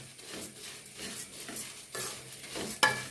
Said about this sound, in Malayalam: അതിലേക്ക് നമ്മൾ ഈ അവലും മലരും കൂടെ ഇട്ട് കൊടുക്കാം ഇട്ട് കൊടുത്തിട്ട് നന്നായിട്ട് വറുത്തെടുക്കണേ